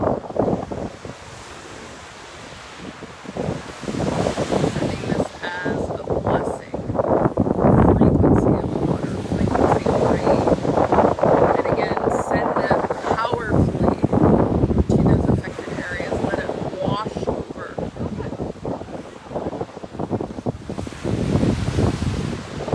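Ocean surf rolls onto a beach with gusting wind buffeting the microphone, a steady broad wash of waves throughout, while a voice talks over it.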